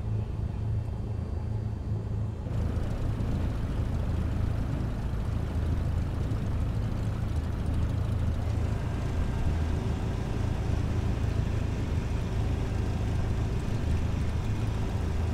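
Light aircraft engine in Microsoft Flight Simulator 2020, run up from idle to about 1,700 RPM with mixture set rich at Craven County Airport, New Bern; a steady, loud low rumble throughout, brightening slightly after the first couple of seconds.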